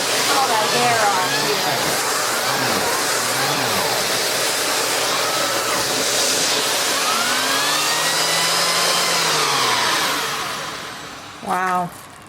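A Eureka Floor Rover upright bagless vacuum with a spinning hose attachment sucks up hair, a loud continuous roaring whine with shifting pitch, while a person talks over it; the motor winds down near the end before a brief burst.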